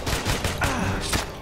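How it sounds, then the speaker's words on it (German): Rapid automatic gunfire in the sci-fi shooter Aliens: Colonial Marines, a quick, loud burst of closely spaced shots over about a second, heard up close. "Ich feuer mal mit drauf."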